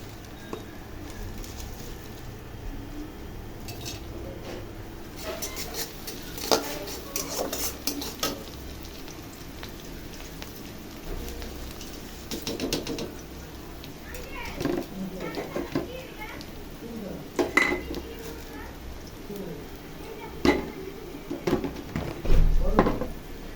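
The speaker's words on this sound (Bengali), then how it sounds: "আমি এখানে ম্যাগিটা ভেঙে নিয়েছিলাম, এখন দিয়ে দিলাম।" Broken Maggi noodles are stirred in a pan with fried onion and egg, with scattered scraping and clinking of a utensil against the metal pan, while a person talks over much of it.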